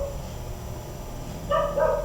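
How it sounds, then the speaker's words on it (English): Dogs bark in a few short, sharp bursts near the end, fairly faint over a low background rumble. "the sound of the dogs barking."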